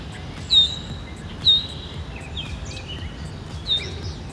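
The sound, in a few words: birds singing in a foggy park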